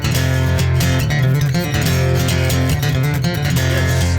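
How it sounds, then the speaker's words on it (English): Fast, twangy chicken-picking country lead on electric guitar with a band behind it, clean and without effects, playing continuously and loud throughout with no talking. "Chicken picking."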